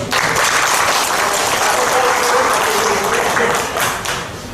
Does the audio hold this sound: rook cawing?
no